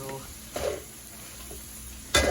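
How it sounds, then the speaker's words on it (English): Food stirred in a Pampered Chef skillet with a Pampered Chef Mix and Chop for a zucchini pizza casserole, a few short scraping strokes over a faint sizzle, close and soft. "Using my mix and chop from Pampered Chef"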